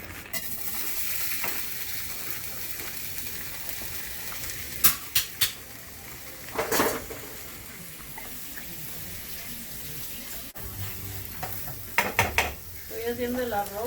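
Rice for Mexican rice fries in melted lard, a steady soft sizzle filling the background while a spoon stirs and scrapes the pan in a few brief clattering clusters, with no talking.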